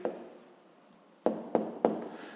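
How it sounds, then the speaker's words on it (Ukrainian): A pen writes a math answer by hand on paper: a short scratchy stroke, a pause, then three quick close strokes in a row, quiet and dry with no talking. "Записуємо тоді відповідь."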